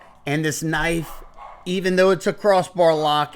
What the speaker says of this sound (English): Sorry about my dog, but you know, he had to bark